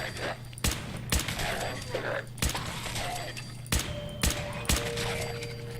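Rapid bursts of gunfire in the video game Fallout 4, a series of loud sharp shots spaced a second or so apart over a steady low background hum, close and punchy.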